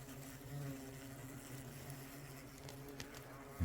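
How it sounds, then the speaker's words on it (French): Hornets fly into an old wasp nest, making a steady, close buzzing drone that holds throughout, with a brief louder rustle right at the end. "Et les frelons qui rentrent."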